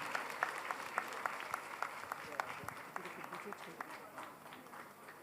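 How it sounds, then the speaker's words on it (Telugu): An audience claps together at a Telugu honouring ceremony for gurus at a cultural festival, the brisk, dense applause crackling steadily and then slowly thinning and fading toward the end. "ఒకసారి గట్టిగా చప్పట్లు కొట్టండి"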